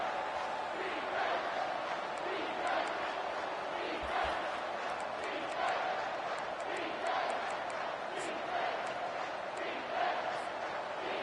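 A stadium crowd roars steadily on a big third down in a college football video game with Colorado State, a constant distant wall of cheering with a few sharp accents throughout.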